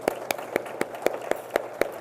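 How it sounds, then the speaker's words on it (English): Hands clap at an iftar dinner in a steady, evenly spaced rhythm of about eight crisp, close claps over two seconds. "Round of applause for that."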